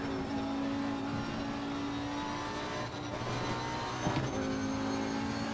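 Race car engine in a sim racing game played on a Fanatec CSL DD wheel, a steady droning rev at moderate level that shifts pitch with a brief dip mid-way as gears change.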